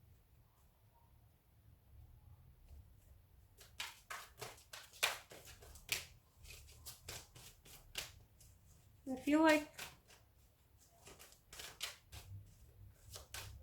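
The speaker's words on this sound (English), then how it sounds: "I have to keep shuffling." Quick riffling bursts of tarot cards being shuffled, several short rustles with one louder riffle midway, while a person speaks briefly over a faint room hum.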